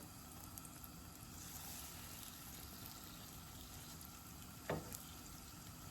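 A slice of French toast fries quietly in a pan, a soft, faint steady sizzle with a brief clunk near the end as something touches the pan.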